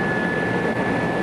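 Helicopter flying over a rally special stage at the 2003 Rallye Sanremo, piloted by Guy Fréquelin, giving a steady, broad rotor and engine roar that holds loud and unbroken throughout.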